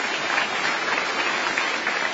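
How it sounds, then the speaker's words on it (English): Audience at a festival talk with a Supreme Court justice bursts into continuous applause, a thick, even roar of clapping heard alone at moderate volume. "Go ahead and applaud."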